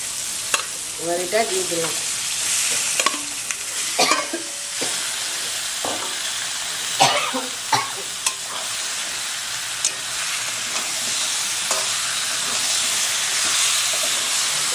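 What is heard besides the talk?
marinated chicken frying and sizzling in spice masala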